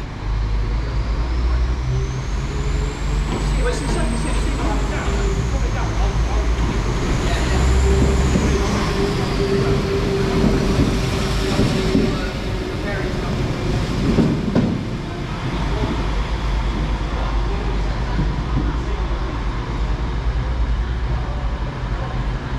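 A Northern passenger train to Leeds rumbles and idles at a South Yorkshire station platform with a steady low drone, a rising electric whine, and brief squeals, while distant voices murmur underneath.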